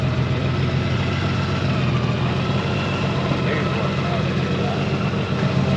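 A motorcycle engine, a Harley-Davidson or Gold Wing, runs steadily at idle with a deep, continuous rumble that stays loud and even throughout, with no break in the sound.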